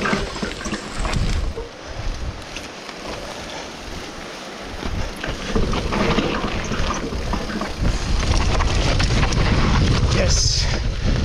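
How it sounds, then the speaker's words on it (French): Wind roars over the microphone on a mountain bike trail ride testing Magura MT trail brakes, a loud continuous rushing that swells toward the end, with a rider talking. "il y a du vent là"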